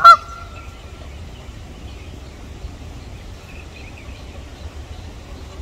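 Wild geese, four of them in an open field, give one sharp honk at the very start, then only faint outdoor background follows.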